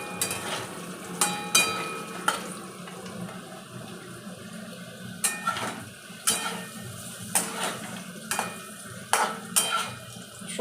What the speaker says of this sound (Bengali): তেজপাতা, পাঁচফোড়ন, একটা শুকনো লঙ্কা আর আলু দিয়ে এবার ভাজবো।